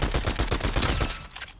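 Rapid bursts of gunfire in Fortnite, a dense run of loud close shots in quick rhythm that fade slightly toward the end.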